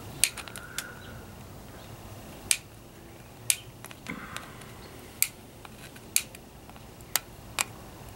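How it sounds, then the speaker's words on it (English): Wire cutters snip off soldered component leads on a timer circuit board in a series of sharp, separate clicks at irregular intervals, close over a low background hiss with no speech. "Let's cut off the leads."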